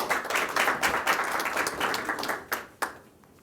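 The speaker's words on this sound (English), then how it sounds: "Can you clap for him, please?" Conference audience in London clapping together, a dense burst of applause that thins to a few last claps before fading out.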